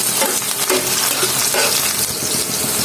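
Onion and bay leaf fry in hot oil, giving a loud, dense sizzle with quick stirring scrapes throughout, very close.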